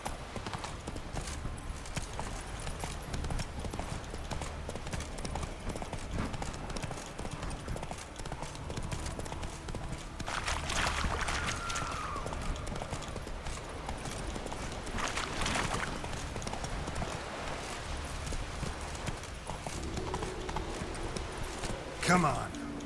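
Roach the horse gallops in The Witcher 3, a fast, steady clip-clop of hooves that runs throughout over ambient game sound, with voices now and then.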